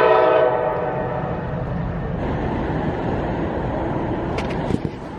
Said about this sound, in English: An hour late, our train finally approaches to take us home.